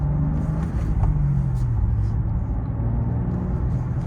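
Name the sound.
2024 BMW M2 manual car driving, breaking traction in snow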